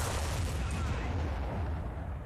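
A tank gun firing in War Thunder, from a modernized T-62: one dense, loud roaring blast whose rumbling reverberation fills the whole moment and slowly fades.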